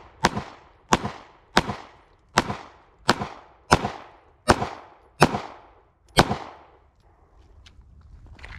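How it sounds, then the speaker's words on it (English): Eight sharp shots from a Ruger Max-9 pistol fired at a range with a Galloway Precision guide rod and spring, evenly spaced about two-thirds of a second apart, loud and close, then a quiet tail. "So I'm going to go ahead and shoot again"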